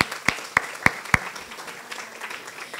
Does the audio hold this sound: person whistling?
no